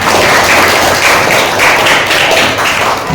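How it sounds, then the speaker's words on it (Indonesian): An elementary classroom of sixth-grade pupils claps together, loud and close, a thick, steady burst of many small hands patting in a slightly rhythmic pulse. "Tepuk tangan buat kita semua"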